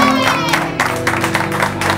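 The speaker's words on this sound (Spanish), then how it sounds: "un aplauso más fuerte de este lado" A television studio audience applauds and cheers steadily, dense clapping filling the space with a loud, continuous roar.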